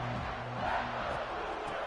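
A college football video game stadium crowd roars steadily at moderate distance during a punt return, a dense, sustained wash of cheering voices with a faint horn-like tone underneath.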